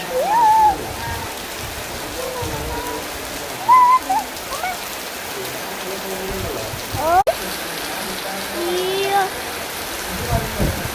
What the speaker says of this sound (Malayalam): നല്ല മഴ, നല്ല കാറ്റുണ്ട് കേട്ടോ.